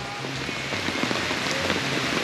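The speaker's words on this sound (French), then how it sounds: "Alors l'averse orageuse ne nous quitte pas." Steady heavy rain from a thundery shower at the sacred marae site of Taputapuatea on Raiatea, a dense, continuous wash of drops hitting surfaces, close and unbroken with no voices.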